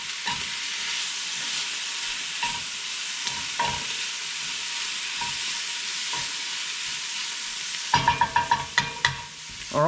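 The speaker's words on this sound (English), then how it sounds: "We just want to get the bacon fried off." Bacon and mushrooms fry in a pan with a steady, even sizzle, broken by a few soft scrapes of stirring. A louder burst of clattering stirring comes near the end.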